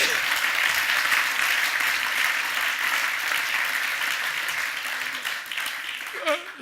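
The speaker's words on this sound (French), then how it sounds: "Est-ce qu'on peut l'applaudir?" Audience applause at a live magic and technology show, a steady dense wash of many hands clapping that holds for several seconds before thinning out near the end.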